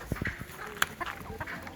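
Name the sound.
Buff Orpington chickens clucking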